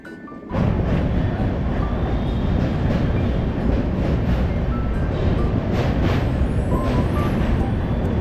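An Indian Railways passenger train running from Howrah to Haridwar, just after leaving Deen Dayal Upadhyaya station, fills the clip with a loud, continuous rolling rumble and wheel noise after a brief quiet opening.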